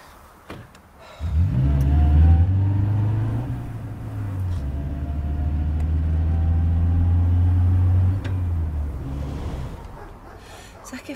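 A car engine rumbles into life with a low, steady drone that holds for about eight seconds and then dies away, with brief sharp noises around it.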